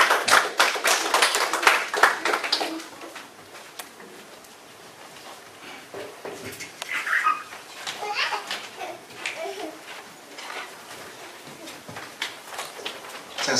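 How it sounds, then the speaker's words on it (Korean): A congregation claps in welcome at the KAIST campus church Sunday service. Dense clapping is loudest at first, then thins into scattered claps with murmuring and children's voices. "목사님, 주님 환영의 박수로 맞이하겠습니다."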